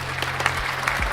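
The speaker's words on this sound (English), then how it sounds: "So a big round of applause for her." A round of applause for a woman, brief clapping from a small group heard in front of a low steady hum, with a few distinct claps standing out.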